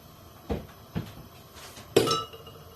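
A metal lid knocks twice and then clanks down onto a pot of simmering fish broth, three short clinks, the last one loudest, in a quiet kitchen.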